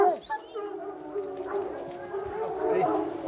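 Hunting dogs out tracking game bark and yip repeatedly at close to middle distance, with some whining howls, while people talk over them.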